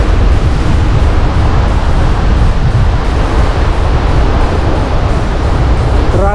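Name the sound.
rushing river at a rafting starting point in the Himalayas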